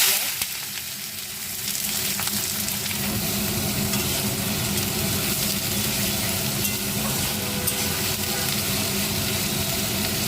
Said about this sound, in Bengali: পেঁয়াজটা নরম করে ভেজে নেব